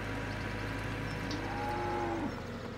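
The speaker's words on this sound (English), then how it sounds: "Cows, folks." Cows mooing on a farm in a farming game, one long drawn-out moo rising and then falling, heard alone over steady background noise.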